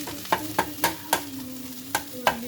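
Eggs stir-fried in a pan for chicken chow mein give a soft sizzle broken by about seven rhythmic, sharp spatula scrapes and taps, close and fairly loud.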